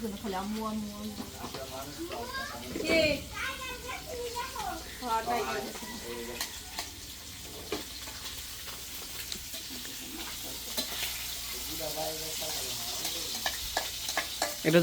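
Tomatoes frying in a pan are stirred with a spoon, giving a continuous sizzle broken by scraping strokes. People talk over the cooking throughout.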